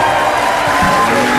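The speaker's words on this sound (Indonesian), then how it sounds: "Nanti Aurel tepuk tangan dulu buat bertiga ini." A television studio audience claps and cheers for three guests, a loud and continuous wash of crowd noise with mixed voices throughout.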